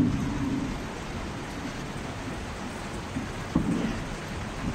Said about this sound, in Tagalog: Ang lakas nga pala ng ulan dito ngayong umaga.